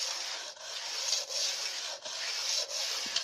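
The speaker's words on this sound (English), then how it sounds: "I'm just going to allow the weight of the stone pushing it forwards and backwards to sharpen my skates" A sharpening stone pushed back and forth along a speed skate blade makes a soft, continuous rubbing scrape in a steady rhythm of about six strokes. Quiet and close, with no speech.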